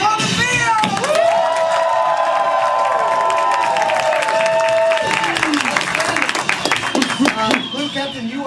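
A theater comedy-improv audience cheers, whoops and applauds loudly and continuously, with a whistle-like tone held over the crowd and voices shouting throughout.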